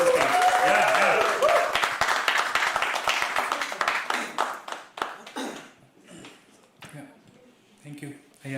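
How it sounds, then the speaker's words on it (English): An audience at a live poetry open mic applauds loudly as a performer comes to the stage. The dense clapping thins into scattered claps and fades out under talking voices. "keep clapping till you come on stage"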